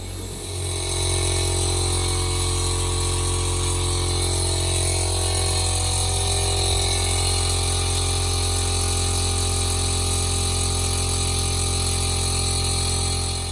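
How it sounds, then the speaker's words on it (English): An air suspension compressor in the trunk of a classic Mercedes drones loudly and steadily, with a constant low mechanical hum and whine running throughout without a break. "you can hear the compressor kick on now"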